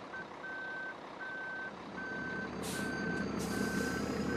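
A truck's reversing alarm beeps steadily in Farming Simulator 2013, five evenly spaced tones over engine rumble, with a burst of hissing noise joining near the end.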